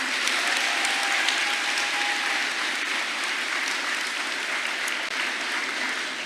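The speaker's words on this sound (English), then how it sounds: "Can we give them a round of applause, please?" The crowd at the 2023 Lindenwold High School graduation ceremony gives the assistant principals a round of applause. Steady, dense clapping fills the hall at an even level throughout, with a faint tone near the start.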